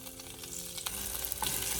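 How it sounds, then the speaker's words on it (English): Spring onions sautéing in olive oil in a saucepan give a steady, close sizzle that runs throughout, with a brief stir or clink partway through and no voices. "heat a saucepan, add some olive oil, and we saute some spring onions"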